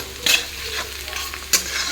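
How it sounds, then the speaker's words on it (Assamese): Onions and slit green chillies fry in hot oil in a pan, giving a steady close sizzle broken by two sharp stirring scrapes. "আৰু এতিয়া মোৰ পিঁয়াজখিনি এনেকৈ ভাজি হৈ গ'ল"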